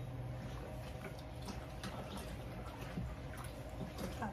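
Water running steadily into a baby's bathtub at a two-month-old's bath time, a continuous broad wash of flow with faint splashy detail throughout, fairly close and fairly quiet.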